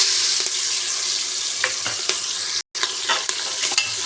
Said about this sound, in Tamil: இப்போது இஞ்சி பூண்டு பேஸ்ட்டு சேர்த்துக்கலாம்